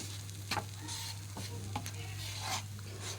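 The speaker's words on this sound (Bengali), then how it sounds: "এটা বেশ কিছুক্ষণ টাইম নিয়ে এভাবে করে ভেজে নিতে হবে।" Gram flour roasting in ghee hisses in a low, steady sizzle while a spoon stirs it, leaving several distinct scraping strokes against the pan, close up and with no talking.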